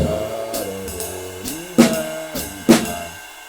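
Jazz drums comp with a few sparse accented hits and cymbal washes beneath a voice singing a wordless solo line, close and moderately loud.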